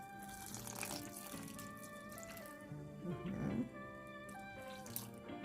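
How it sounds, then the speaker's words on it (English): Water runs steadily from a source and splashes while being poured gradually into saltfish fritter batter for Jamaican-style fritters, a continuous soft trickle with a brief louder splash partway through, quiet and close. "So I'm now going to add this water gradually."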